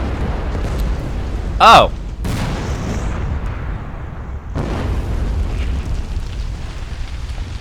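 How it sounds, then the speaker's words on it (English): A Warthog jeep blows up in a Red vs Blue episode, one loud boom followed by a steady rumbling roar of fire, with excited voices reacting over it. "Did they actually blow up that Warthog?"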